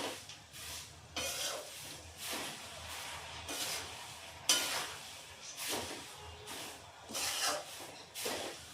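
Poha and powdered sugar being stirred in a pan over low heat, with soft, rhythmic scraping strokes repeating roughly every second, quiet and close, with no talking.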